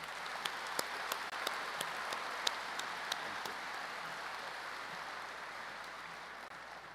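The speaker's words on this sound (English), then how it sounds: "Please join me in giving them a well-rounded applause." An audience at a high school graduation ceremony applauds, with a sustained wash of many hands clapping at moderate distance and a few sharper claps standing out early on.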